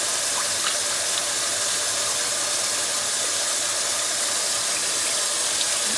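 About two cups of water pour into an Instant Pot during a pot roast, a steady close rushing and splashing stream that continues for several seconds without speech.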